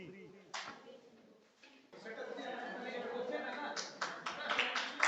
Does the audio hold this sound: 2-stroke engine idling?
no